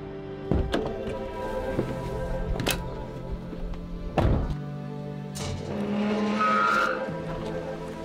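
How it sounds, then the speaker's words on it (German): A car accelerating on a road trip through France gives a rising engine drone, broken by a few sharp thunks and bumps and a squealing, tire-like whine, all heard from inside at fairly close range. "Ich drücke jetzt mal aufs Gas, wir haben noch einen langen Weg vor uns"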